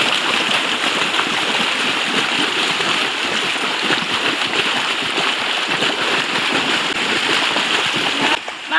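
Children play and splash in river water, a steady loud churn of splashing and sloshing that continues without pause and cuts off sharply at the end.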